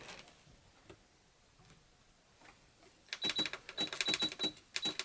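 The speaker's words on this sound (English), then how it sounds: "I use a very tight zigzag stitch for that." Sewing machine running a tight zigzag stitch on a pilot belt harness, quiet handling at first, then a rapid burst of close mechanical ticking and clatter for the last two seconds, without speech.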